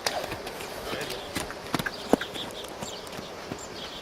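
Hooves clip-clop irregularly on the ground as a horse moves loose during liberty training, with scattered hoofbeats of varying loudness, a few sharper strikes, and a person speaking in the background.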